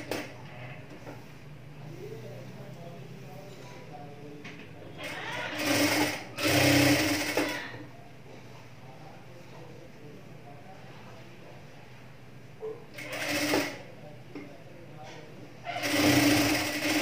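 A domestic sewing machine stitching a blouse shoulder seam runs in three short loud bursts, separated by stretches of quieter room sound with someone speaking.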